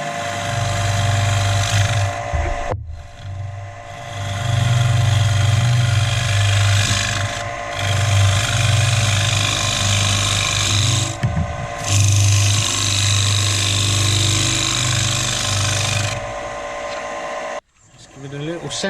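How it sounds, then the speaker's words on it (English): A wood lathe spins an elm flower pot while a negative rake scraper shapes the end, giving a loud steady motor hum and a scraping whir that rise and fall in long passes, broken by short cuts of near-silence, with a voice speaking alongside. "Gonna poke me negative rake scraper down the end there and round it off."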